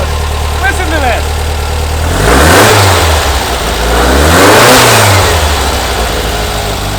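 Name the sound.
newly installed 1970 VW Bus engine revving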